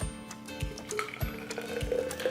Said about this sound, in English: And then add hot water.